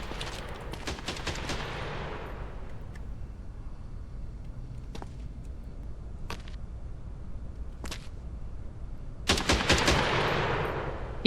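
Gunfire in the video game Quarantine Zone: The Last Check: a fast burst of automatic shots at the start, then a few isolated sharp cracks, and a final dense burst, close and loud over a low background hum.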